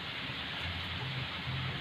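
Rain falls steadily at a tilapia fish cage farm, a dense, even hiss with low rumbling underneath that stays constant throughout, with no voices.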